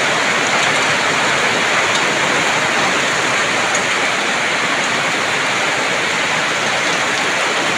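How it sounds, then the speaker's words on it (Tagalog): Heavy rain pours down during a super typhoon, a dense, loud and unbroken roar of water hitting surfaces that holds steady throughout with no voices. "Dagko kayang tulo sa ulan."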